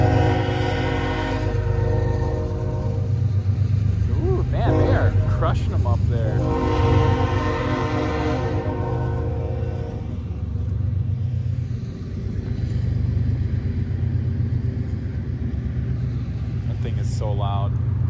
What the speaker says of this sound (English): Golly, this train.